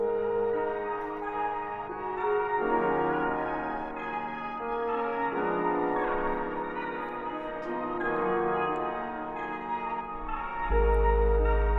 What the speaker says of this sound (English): I just put it on like a piano with a lot of reverb.